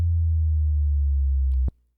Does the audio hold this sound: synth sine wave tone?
yes